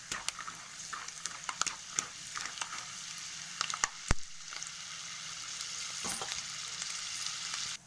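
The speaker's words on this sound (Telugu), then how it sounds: "మంచిగా వేయిపోవాలి నూనెలో" Flattened rice (atukulu) frying in oil for a mixture snack, a steady low sizzle with scattered crackles and a few sharp clicks of stirring, close by and fairly quiet, with no voices.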